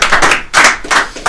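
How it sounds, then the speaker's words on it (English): An audience claps in a short, lively round of applause at a grassroots football club sponsorship event, with dense, even clapping bursts filling the brief moment. "Let's give Sam a nice big round of applause."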